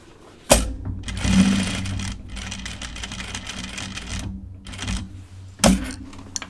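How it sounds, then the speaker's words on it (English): A domestic sewing machine stitches men's pants, sounding as a close, steady mechanical whir with sharp clicks at the start and near the end, pausing briefly in between. "I'm going to do a little half stitch there."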